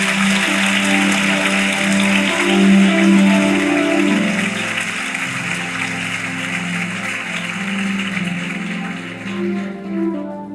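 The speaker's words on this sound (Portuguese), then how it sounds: "Você pode aplaudir a Jesus" A church congregation applauds in a steady wash of clapping beneath sustained, loud music, holding for about ten seconds before easing slightly at the end.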